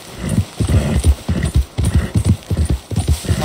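Horse hooves clip-clop in a steady walking rhythm, close and loud, in the Red Dead Redemption 2 video game, with a brief whinny mixed in.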